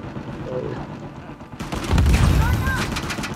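Gunfire in Uncharted 4 multiplayer, a burst of loud, rapid shots that erupts midway over a background of game ambience and effects.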